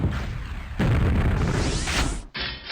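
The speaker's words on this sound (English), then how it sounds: "The rocket launcher is a fairly accurate weapon" A rocket launcher explosion in a first-person shooter video game: a loud, dense boom followed by a second blast and a rumbling tail that cuts off abruptly into a brief quieter burst.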